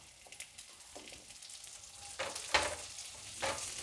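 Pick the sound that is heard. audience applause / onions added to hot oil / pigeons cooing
onions added to hot oil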